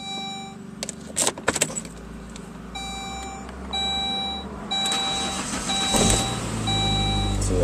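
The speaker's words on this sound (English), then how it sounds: "See that it started right up." Saab 9-3 after a fuel filter replacement: key jangling and repeated dashboard warning chimes, a brief crank, then the engine catches and settles into a steady close idle.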